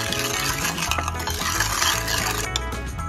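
Balut being stirred together with garlic and pepper in a marinade, a steady scraping and clinking of utensil against bowl, close and continuous, with no talking.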